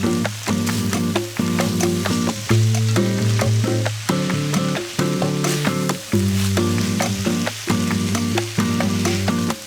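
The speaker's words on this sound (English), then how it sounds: "we can add in the strips of chili and the frozen corn kernels, and just continue to stir everything together" Chicken with poblano chili strips and frozen corn kernels sizzles steadily in a hot pan while being stirred, a constant close frying hiss under repeating background music.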